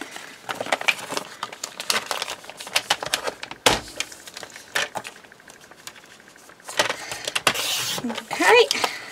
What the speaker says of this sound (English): So I'll just grab my trimmer, which is just here. And we'll just cut them down.